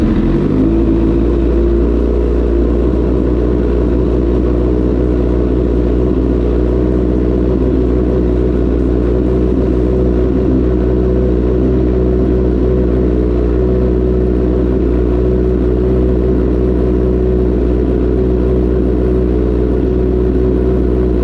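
A freshly rebuilt, previously wrecked 2009 Honda CBR 1000RR Repsol engine running: a loud, steady, low idle drone close to the microphone, holding nearly constant throughout with no distinct revs.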